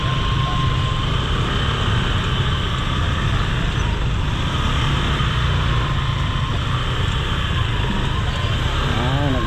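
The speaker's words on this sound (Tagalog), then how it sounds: "Traffic talaga eh." Steady road traffic noise fills a street in Malabon, a continuous broadband rumble and hiss from passing vehicles with a faint rising whine near the end, loud and unbroken throughout.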